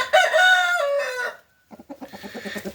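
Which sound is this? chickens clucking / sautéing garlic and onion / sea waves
chickens clucking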